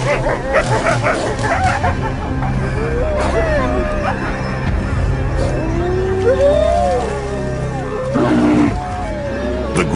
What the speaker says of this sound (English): As a pack, however, the snarling animals seem to overwhelm the inexperienced bear.